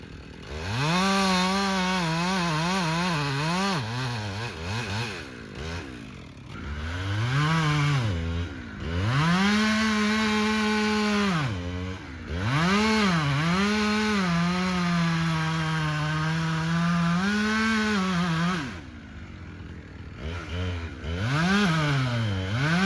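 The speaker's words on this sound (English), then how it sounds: "This is a 20-inch bar on this chainsaw, so I have to come from each side on this tree" A loud chainsaw with a 20-inch bar roars close by, revving up and down as it cuts a notch into a split tree in long sustained cuts with brief pauses.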